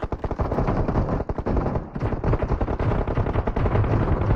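Rapid pistol fire in a video game, loud close shots in quick bursts with a brief pause near the middle, alone without talk.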